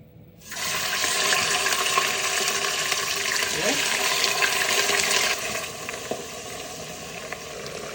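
Meat hits melted butter and oil in a cooking pot and sears with a loud, dense sizzle that starts abruptly, holds steady, then eases to a softer frying hiss, with no talk over it.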